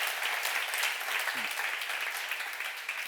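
Steady, dense applause from a church congregation during a sermon, loud and continuous throughout with no voices standing out.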